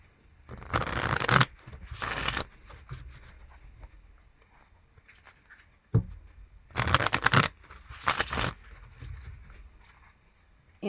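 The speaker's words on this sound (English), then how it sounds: "I'm hearing 3 shuffles." Tarot cards being shuffled by hand in two separate bursts, each a quick riffling flutter of a second or so, close and crisp against a quiet background.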